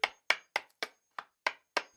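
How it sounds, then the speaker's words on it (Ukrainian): A hammer knocks sharply seven times in an uneven rhythm, each blow a short hard crack that fades quickly, close and loud. "стукає молоток"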